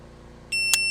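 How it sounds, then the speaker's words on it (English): An electronic shot timer sounds its start beep for a dry-fire trigger control drill: a single loud, steady tone that cuts in halfway through and holds to the end, with a brief sharper blip inside it. "as soon as the beep goes off"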